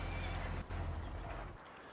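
A horse in the video game Farming Simulator 19 whinnies loudly and close up, a shrill rising neigh over a dense layer of outdoor game ambience that thins out near the end.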